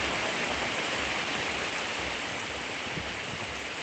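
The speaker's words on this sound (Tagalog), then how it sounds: "Lakas ng ulan." Heavy rain pours down during a storm as a dense, steady roar that stays constant throughout.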